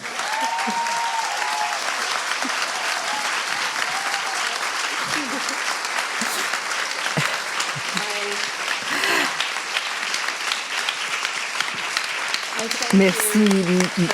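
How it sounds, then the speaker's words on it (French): Sustained audience applause fills a French-dubbed talk-show episode, steady and loud for many seconds with dense continuous clapping, while a voice briefly speaks over it near the end. "vous méritez qu'on vous applaudisse très fort"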